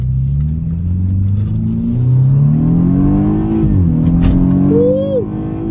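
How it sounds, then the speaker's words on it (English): A BMW 428i accelerating hard, its engine note climbing through the revs with a brief dip at a gear change before pulling up again, loud and close from inside the car. "if I press the gas, this car will go"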